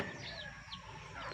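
A brooding hen clucks softly amid farmyard background noise, with faint bird calls nearby and no talking.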